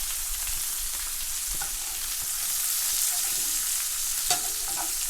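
Beef bacon fries in a hot pan, producing a steady, close sizzle and crackle with a couple of sharp pops and light handling sounds and no talking.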